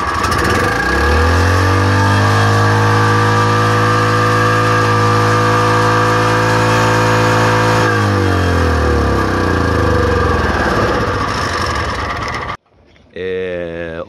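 A rented snowblower engine, left in sunlight and likely suffering a dry governor linkage, revs up and holds a loud, steady high idle. It drops sharply, then surges again, with a voice talking over it.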